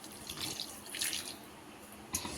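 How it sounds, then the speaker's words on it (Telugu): Hot water is poured into a pan of raw prawn curry with gongura (sorrel leaves), giving a faint splashing and trickling with a sharper splash near the end, with no voices. "ఇలా అన్నీ మిక్స్ అయ్యాక ఒక హాఫ్ గ్లాస్ వేడి నీళ్ళు పోయాలండి."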